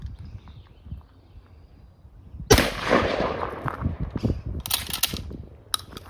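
A single loud shotgun blast from a JC Higgins Model 20 slug gun with an 18.5-inch cylinder bore barrel, fired outdoors at a target, sharp onset followed by a rolling echo and faint rustling.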